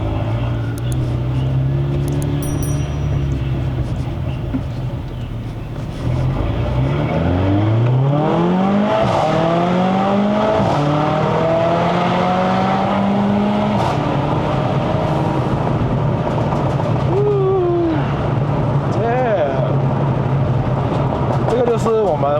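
A Stage 2 tuned C117 Mercedes-AMG CLA45 accelerates hard up a Malaysian mountain road toward Genting, its loud close engine note climbing through repeated rising gear sweeps with brief drops at each shift.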